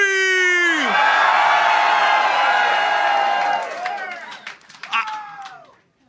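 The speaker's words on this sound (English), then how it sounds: "If you want 4 more years of Donald Trump, let me hear you scream." A political rally crowd in New Hampshire screams and cheers at full volume, a dense loud roar with shrill whoops that holds for several seconds, then breaks into scattered yells and fades out.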